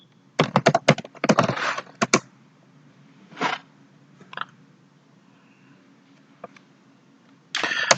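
Keystrokes on a computer keyboard while entering cheque details into Tally.ERP 9 accounting software: quick clustered bursts of close, crisp clicks, then scattered single taps and a final burst, in a quiet room with no talking.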